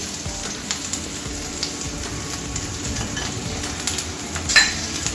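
Cauliflower pepper fry with fennel seeds and pepper powder sizzling steadily in a pan, with occasional stirring clinks from a utensil against the pan.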